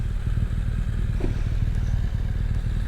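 KTM 990 motorcycle riding along, a steady low engine drone with wind rumble throughout, close and continuous, no talking.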